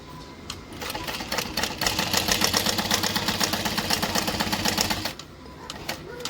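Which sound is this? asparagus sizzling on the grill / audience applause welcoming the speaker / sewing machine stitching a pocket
sewing machine stitching a pocket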